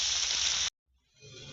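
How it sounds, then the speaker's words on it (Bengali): Cauliflower fries in hot oil with a loud, close, hissing sizzle that cuts off abruptly, then returns more softly. "এখন আমি ফুলকপিগুলোকে ভেজে নেব।"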